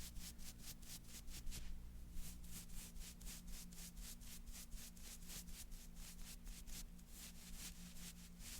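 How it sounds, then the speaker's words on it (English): Makeup brush blending product across a face, giving steady soft rhythmic brushing strokes, close and quiet, with no talking. "I'm gonna grab another brush. This one's a little bit more angled and focused, but I just blend those together now in the middle."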